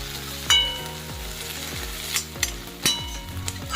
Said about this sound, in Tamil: பச்சை மிளகாய் மட்டும்தான் போடும். நல்லா வதக்கிக்கலாம்.